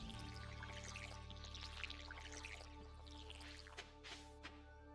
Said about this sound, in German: Ja, jetzt haben wir unsere guten Blaubeeren hier gießen.